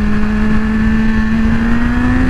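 A BMW S1000RR sportbike engine is held at high revs in first gear, a steady loud droning whine that climbs slightly in pitch and stays constant throughout, with no voices.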